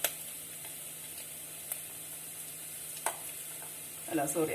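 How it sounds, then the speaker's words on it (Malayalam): Sliced onions sautéing in a pan for vegetable pulao, a soft steady sizzle in the background with a few brief clicks and a louder stirring scrape near the end. "ഇപ്പോൾ സവാള ഒരു നന്നായിട്ട് വഴന്നിട്ടുണ്ട്."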